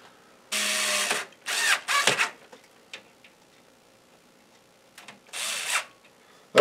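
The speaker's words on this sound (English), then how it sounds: "I'm going to put some screws in here" Power screwdriver driving M3 screws into a Commodore Amiga 2000 video display enhancer board: several short whirring bursts of a few tenths of a second to about a second each, close and fairly loud, with quiet pauses between.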